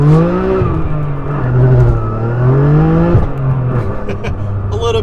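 A BMW F80 M3 engine revs hard and loud, up close, climbing through the gears with rising and falling harmonic sweeps. The pitch dips briefly at each shift before the engine pulls again.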